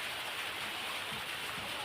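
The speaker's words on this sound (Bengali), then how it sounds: "আকাশে বৃষ্টি পড়তেছে" Steady fine drizzle falling outdoors after a storm, a soft continuous hiss without individual drops standing out, close and even throughout.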